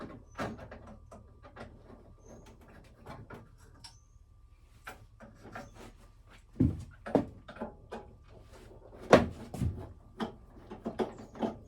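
Control panel and front plastic housing being pulled off a window air conditioner unit, with a string of close plastic clicks, snaps and knocks that grow busier and louder toward the end, no talking.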